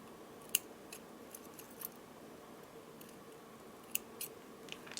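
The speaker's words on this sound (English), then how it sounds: "Now let's cut the thread" Scissors snip through beaded necklace thread above a knot during handmade jewelry making, giving a few sharp, close, quiet clicks spaced irregularly over a soft steady background hiss, with no voices.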